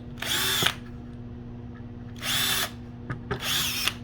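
A power drill whirs in three close, loud bursts of about half a second each while mounting the bottoms of output board boxes for a DIY PLC trainer, with a steady background hum and no talking.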